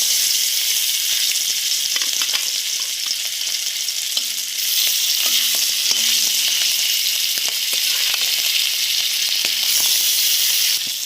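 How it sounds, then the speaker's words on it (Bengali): Fish frying in mustard oil with turmeric, a steady, loud, continuous sizzle and hiss throughout, with faint occasional clinks and no talk. "মাছটা এখন ভেজে নিব।"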